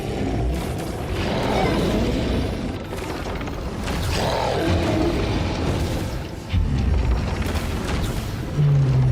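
Booming blasts from a bomb going off in a video game, a loud sustained rumble with several heavy impacts across the clip and no talk over it.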